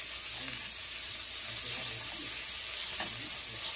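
Rice frying in butter in a pan, a dense continuous hiss of sizzling with faint stirring underneath, steady and close with no voices.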